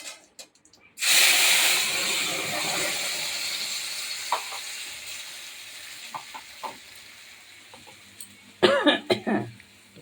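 Ground spice paste hits a hot pan with a sudden loud hiss that slowly fades into a softer sizzle, with a few clinks of a spoon and a final burst of scraping and spattering.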